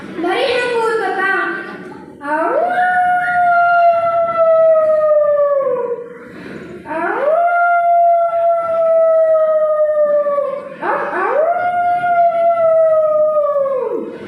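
A voice imitates a fox howling, giving three long rising-then-falling howls with short breaths between them, loud and close with nothing else behind it.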